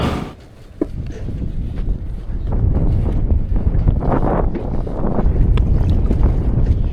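A 1969 Thunderbird tri-hull boat runs on open water, its engine a steady loud drone mixed with wind buffeting and water rush across the whole stretch.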